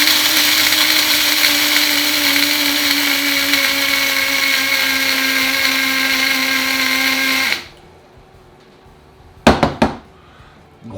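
An electric coffee grinder coarsely grinds coffee beans for a homemade coffee liqueur, giving a loud, steady whirring roar for several seconds. It cuts off abruptly, then a couple of brief clattering knocks follow near the end.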